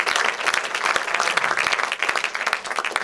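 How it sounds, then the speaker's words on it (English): A chamber of commerce awards crowd breaks into brisk, loud applause, dense overlapping claps with individual sharp hand strikes standing out, continuous for three seconds. "Round of applause"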